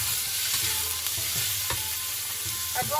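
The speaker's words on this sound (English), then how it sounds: "it's just in with all of our beef all at once and flash fry it" Beef tipped all at once into hot oil for a quick flash fry, making a dense, steady sizzle with scattered pops and soft scraping taps through the whole stretch.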